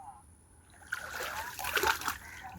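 Irrigation water flowing onto village farmland, a close splashing and trickling stream that swells after the first second and keeps running, with voices talking over it.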